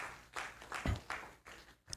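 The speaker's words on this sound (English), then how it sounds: "I believe he deserves a bigger round of applause" An audience at a 40th anniversary ceremony of an ecology and environmental studies institute gives a round of applause, uneven bursts of clapping rising and falling over a couple of seconds.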